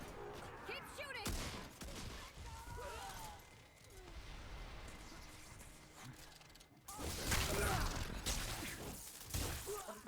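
Video game gunfire rattles in bursts during a team match, with loud dense volleys at the start and again near the end, a quieter stretch of action in between, and voices talking over parts of it.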